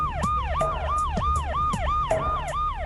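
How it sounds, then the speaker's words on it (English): Emergency sirens of ambulances and police cars wail at night in Vienna during a terror attack, rising and falling wail tones repeating steadily, loud and close with traffic rumble beneath. "As ambulance and police sirens pierced the night"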